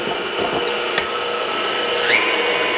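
Stand mixer with a dough hook working dough for Italian struffoli, a steady close motor whir with a constant hum and a couple of brief clicks.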